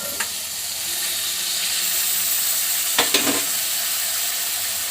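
Vegetables drop into hot oil in a pan for Maharashtrian masala rice, giving a steady crackling sizzle with a couple of brief stirring clatters near the middle.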